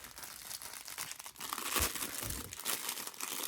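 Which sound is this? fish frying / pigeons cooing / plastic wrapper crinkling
plastic wrapper crinkling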